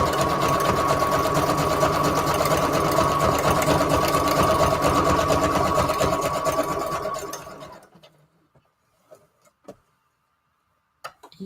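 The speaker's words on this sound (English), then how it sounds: "Okay, so now this is all stitched up." Sewing machine stitching a paper junk journal Christmas embellishment, a loud, rapid mechanical whir for about eight seconds that stops abruptly, followed by a few faint taps and clicks in near silence.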